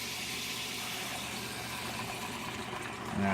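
Water dumped over the side of a GoWise 12-quart pressure cooker into bubbling broth with a turkey, a steady close rushing pour with a slight surge at the very end.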